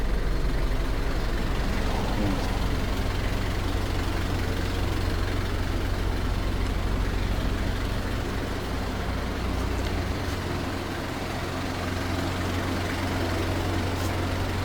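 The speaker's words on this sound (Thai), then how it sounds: "ตัวนี้ฟังเสียงเครื่องยนต์ครับ เสียงเงียบๆครับ" A 1997 Nissan Caravan Limousine diesel van with a TD27 engine idles steadily, a deep even drone rumbling continuously throughout, with no voices and no revving.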